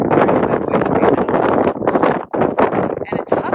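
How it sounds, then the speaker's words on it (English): Strong wind buffets the microphone outdoors on a roadside walk near Lyon on the Camino de Santiago, loud continuous rumbling gusts that dominate throughout. "It's been a very windy day."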